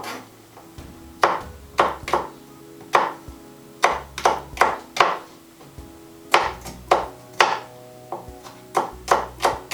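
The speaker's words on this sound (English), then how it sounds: "just roughly chopping the garlic" A knife roughly chopping garlic on a board for a vegan leek and potato soup: sharp, close knocks in irregular bursts, several quick strokes at a time with pauses between, over a low steady hum.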